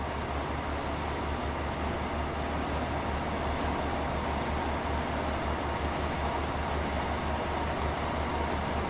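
A Northern Rail express train to Leeds in Train Sim World 2 runs along, a steady broadband rumble and hiss of wheels and motion, unbroken and without talk.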